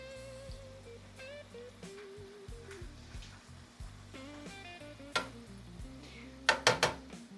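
Homemade chips frying in a shallow pan of oil over medium heat give a soft steady sizzle under background music, with a few sharp clinks of a utensil against the pan near the end.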